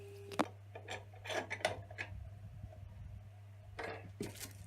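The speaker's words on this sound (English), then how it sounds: "Nice clean paper towel, and then apply the wax on." Paper towel rubbing wood wax onto a lathe-turned wooden jewellery box, soft scratchy strokes in short bursts with a low steady hum underneath.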